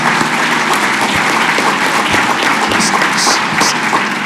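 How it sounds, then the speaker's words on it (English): A gala dinner audience breaks into sustained applause after a fundraising total is announced, dense clapping from a large crowd holding steady and loud throughout, with scattered cheers. "Give yourselves a round of applause."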